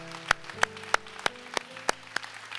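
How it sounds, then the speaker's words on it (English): Church congregation clapping in praise: about eight sharp, evenly spaced claps in a steady beat, fairly quiet, over sustained low organ-like tones. "give the Lord a clap and just thank him"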